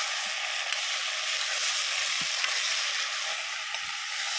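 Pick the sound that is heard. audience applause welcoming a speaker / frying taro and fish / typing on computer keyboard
frying taro and fish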